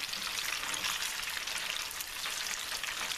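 A bacon Swiss burger sizzles in hot fat in a pan, a soft, steady crackling hiss without pause, fairly quiet and heard close.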